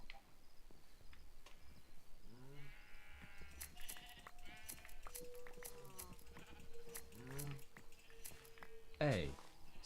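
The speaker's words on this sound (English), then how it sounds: "Looks like I'm about to go fleece the sheep." Sheep bleat repeatedly in Minecraft, several wavering calls spread across the scene over chirping crickets and other game sounds, with a voice talking over them.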